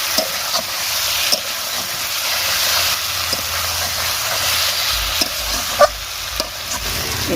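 Kosha mangsho, spiced Bengali meat, sizzles and fries steadily in a pan, a continuous broad hiss with scattered scrapes and clicks of a spoon stirring through it, close and moderately loud with no talking.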